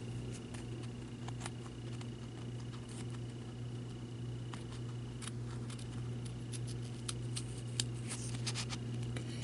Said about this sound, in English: I'm using mainly the back part of my scissors as I cut.